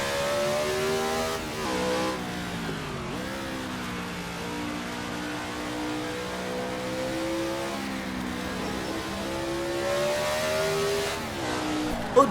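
A race car engine in a 1967 South African Grand Prix racing video game drones steadily, with pitch rising and falling through braking, downshifts and acceleration. The engine stays mid-loud and continuous with no talking.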